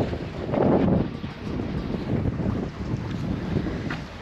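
A sailing boat motoring on its diesel engines while wind buffets the microphone, giving a steady low engine rumble under broad, gusty wind noise throughout.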